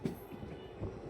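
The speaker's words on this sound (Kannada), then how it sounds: "ಆನಕೆರೆ ಔಟ್ರಲ್ಲಿ ನಮಗೆ ಕ್ರಾಸಿಂಗ್ ಆಗ್ತಾಯಿದೆ" Train rumbling at Anakere railway station on the Tiruvanantapuram–Mysuru line, a low steady rolling noise with a brief heavier swell, heard close and alone.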